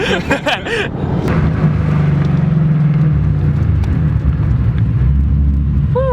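A 2018 Subaru WRX with a catless straight-pipe exhaust and valved mufflers, a loud, deep droning rumble that settles into a sustained low hum, with a voice briefly heard near the start and end.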